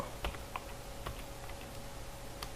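Someone types on a computer keyboard while working in Excel, a few scattered, fairly faint key clicks at an uneven pace over a low steady background hum.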